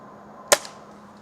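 A Benjamin Trail NP Mark II air rifle fires a Gamma Pro Magnum pellet: one sharp, loud crack that decays quickly, followed by a faint tick of the pellet striking, with quiet room tone around it.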